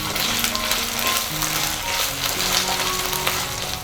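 Onions and potatoes fry with ginger-garlic paste in a pan, giving a steady dense sizzle with stirring scrapes and faint tonal hum underneath, continuous and close with no talking.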